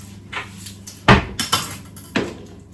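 Ceramic bowl clatters as it is taken out and handled in a home kitchen while garlic butter is prepared, a few sharp knocks and clinks close by, one louder clunk in the middle, with no talking.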